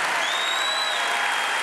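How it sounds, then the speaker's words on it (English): Church congregation applauding and cheering in a large hall, dense steady clapping throughout with a high whistle-like tone rising above the crowd. "Come on, we gotta cheer, clap."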